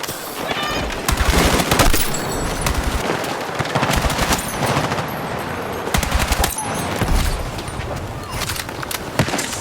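Rapid automatic fire from the B36A4 assault rifle in the Battlefield 6 video game, loud sustained bursts with short gaps, layered with game effects and a faint voice underneath.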